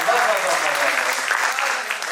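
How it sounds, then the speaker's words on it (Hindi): Audience applause at a Hindi poetry recital, a dense continuous clapping from a crowd that holds steady loud throughout, with no talk over it. "एक बार और जोरदार ताली।"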